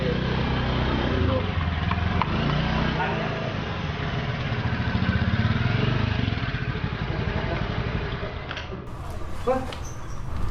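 A motorcycle engine runs steadily and fairly loud for most of the stretch, then sputters and cuts out near the end, leaving a few scattered clicks and small noises.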